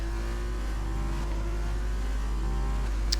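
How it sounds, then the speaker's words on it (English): Onboard engine drone of a Formula 2 race car lapping the Abu Dhabi circuit, a steady, close, continuous tone with little change over a few seconds. "running on board now with Zombez, who is starting his lap now"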